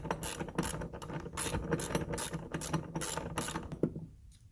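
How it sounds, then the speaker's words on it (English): A 10mm socket ratchet loosens and removes bolts during a catch can install on a 10th-generation Honda Civic, its rapid clicking pawl heard close and continuous before stopping abruptly near the end. "take a 10mm socket, put on the bottom one, just loosen that bottom bolt there, and then completely remove the top bolt"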